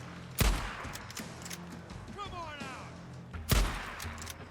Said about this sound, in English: I put at least 7 bullets into that guy.